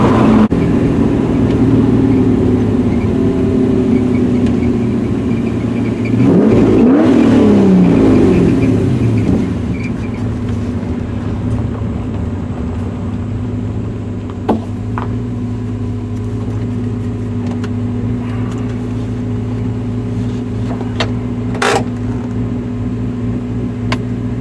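Porsche 944 with an LS V8 engine swap and big 996 brakes rolling along on a test drive, a steady loud engine drone and road rumble throughout, with a brief swell of revving early on before settling into a lower cruise.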